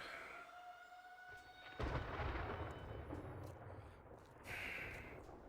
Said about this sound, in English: is terrible timing for a storm